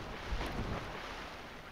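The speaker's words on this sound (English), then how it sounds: "Trudging through water is such a slog." A Dark Souls character wading through water, a continuous sloshing, washing rush with a few brief splashy surges, close and fairly loud with no talk.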